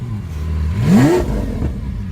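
Lamborghini Aventador Roadster with a full IPE exhaust system and cat bypass revs once, pitch sweeping upward to a loud peak then dropping back to a rough idle, close and unaccompanied.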